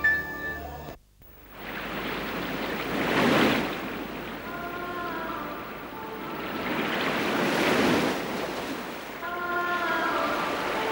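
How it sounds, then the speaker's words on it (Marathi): Sea waves break on the shore in slow, steady swells with a continuous roar of surf, two larger surges rising and falling, with faint wind and no talk. "लखू काय बघतोस एवढे त्या समुद्राकडे?"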